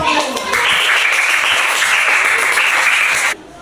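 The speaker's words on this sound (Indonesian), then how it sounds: "Beri aplaus dulu" Students clap in a classroom, a loud, dense burst of applause up close that holds steady for about three seconds and then stops abruptly.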